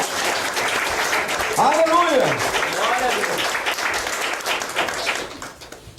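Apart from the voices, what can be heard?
congregation applauding in church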